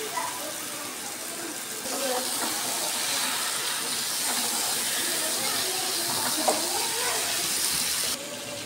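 Chicken pieces sizzle and hiss steadily in a pan of fried spice masala, a continuous bright frying noise with faint clinks of stirring, close and fairly loud, for about eight seconds before easing slightly.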